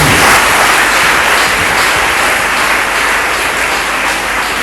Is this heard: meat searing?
no